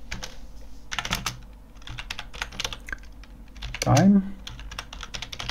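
Typing on a computer keyboard while working in Roblox Studio: a loose series of close, crisp key clicks in uneven bursts, with a voice briefly heard partway through.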